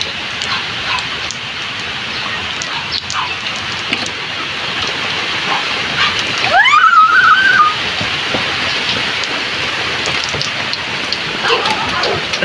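Steady rain hisses across surfaces throughout, with a brief whistle-like rising tone partway through; no talking.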